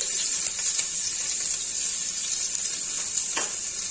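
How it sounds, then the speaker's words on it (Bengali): Onions sizzle steadily in hot oil for a rohu fish curry, a constant close frying hiss with faint occasional crackles. "তেলের মধ্যে অল্প করে পেঁয়াজ দিয়ে দিচ্ছি।"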